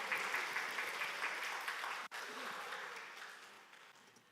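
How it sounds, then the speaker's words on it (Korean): A church congregation at a Sunday worship service applauds, a soft, even patter of many hands that fades gradually, heard at a distance with a brief dropout midway. "박수해 주세요."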